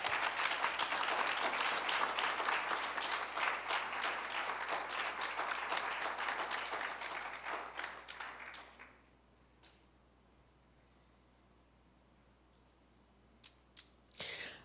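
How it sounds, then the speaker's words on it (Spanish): A church congregation claps and applauds loudly and steadily for about nine seconds, the sound then fading to near silence with a few scattered claps near the end. "Dele un aplauso a Cristo."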